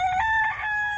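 A rooster crows on a farm, one loud, close cock-a-doodle-doo with clear ringing tones and no talking over it.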